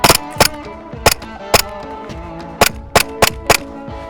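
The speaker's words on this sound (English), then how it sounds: "We are out of BBs, but the gun is still firing." An Umarex Glock 18C airsoft pistol, out of BBs, fires on full auto as a series of sharp, close, dry cracks in irregular short bursts, about nine snaps in total, with no talking.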